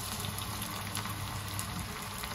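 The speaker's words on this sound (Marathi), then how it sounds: "अशा प्रकारे मी सर्व वडे तळून घेते." Semolina vadas bubble and fry in hot oil, a steady broadband sizzle at moderate loudness with no voices.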